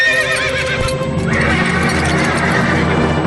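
A horse, the sacrificial steed of an Ashvamedha yagna in an animated Tamil film about Rama's sons, neighs loudly with a long whinny, hooves clopping alongside in a dense, busy film soundtrack.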